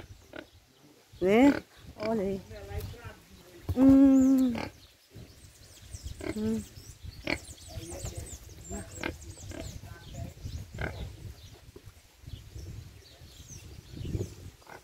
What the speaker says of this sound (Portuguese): Ah, tem chiqueiro aqui também